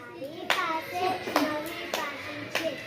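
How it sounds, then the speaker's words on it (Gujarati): In a classroom, children clap in rhythm while chanting a sentence together, with four distinct claps spaced under their voices. "હવે એને તમે તાળી પાડીને વાક્ય બોલો છે"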